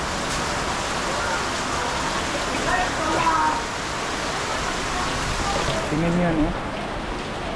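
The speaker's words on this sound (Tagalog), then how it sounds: "grabe ang ulan guys." Heavy rain pours down steadily outdoors in a dense, loud hiss that fills the whole stretch, with brief voices speaking over the downpour.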